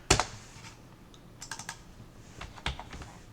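Keys pressed on a computer keyboard while entering a two-line spreadsheet cell with Alt and Enter: a sharp opening press, then a few light clicks, close and quiet, with no talk.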